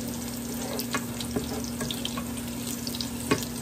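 Pork for pata kare-kare bubbles in a pot, with a continuous close simmering hiss, a low steady hum underneath and occasional soft pops and clinks, and no voices.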